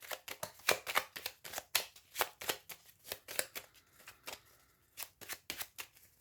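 Deck of tarot cards being shuffled and cut by hand, a rapid series of crisp riffling and slapping bursts in an uneven rhythm, close and quiet.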